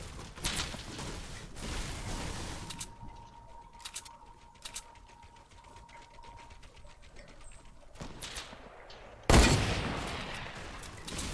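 Gunfire in the video game Fortnite sounds as several quick bursts of shots, with a sudden loud blast near the end over steady game background noise.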